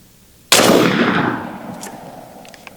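A single sharp, loud crack rings out from an Element Max .50 caliber PCP airgun shot, then decays slowly over about two seconds, following a brief quiet lead-in.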